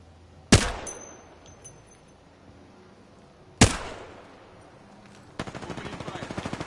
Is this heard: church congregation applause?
no